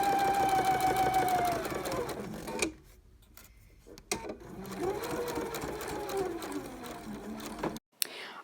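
A sewing machine runs in steady bursts while stitching a quarter-inch seam on a quilt block, the motor whirring close by with brief pauses and handling noises between runs, and no talk over it.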